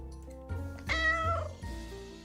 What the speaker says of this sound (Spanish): Voy a acariciar al gato.